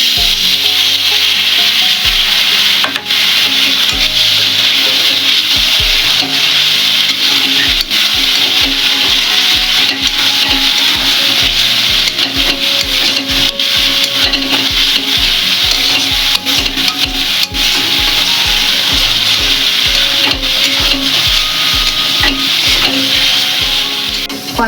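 Fried potatoes with a splash of water hit a hot pan in a coconut-milk egg curry, giving a loud constant sizzle with steady rhythmic scraping and stirring of a spatula. No one speaks.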